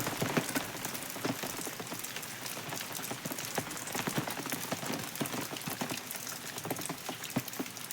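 Heavy rain pours down in a dense, steady patter of drops hitting surfaces, loud and continuous throughout, with no voices.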